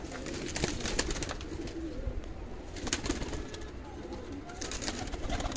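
Soft coos from Teddy Golden Kamghar pigeons repeat amid constant outdoor background noise, with a few brief louder clicks and rustles.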